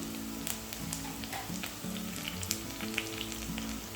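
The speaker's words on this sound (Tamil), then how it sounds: "ஸோ வெங்காயம் வந்து சூப்பராக ப்ரௌன் ஆகிடுச்சு. இந்த ஸ்டேஜில் நான் கொத்தமல்லி சேர்க்குறேன்" Browned onions frying in a pan for mushroom biryani as coriander goes in, a dense, even crackling sizzle throughout with faint occasional stirring ticks.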